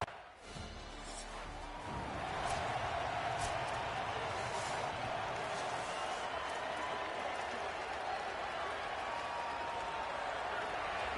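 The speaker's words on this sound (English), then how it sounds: "The roar of the crowd trying to fuel this defense to keep them pinned in their own end." Stadium crowd roar in an NCAA football video game during a defensive stand: a sustained, loud wall of cheering that swells after a brief quieter start and holds steady.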